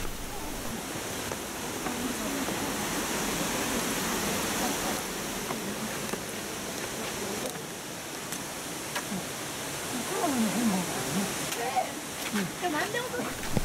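Nunobiki Falls in Japan, swollen into a flood after record-breaking heavy rain, gives a steady broadband roar of pounding water with no let-up, and voices come in faintly near the end.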